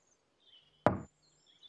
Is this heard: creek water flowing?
no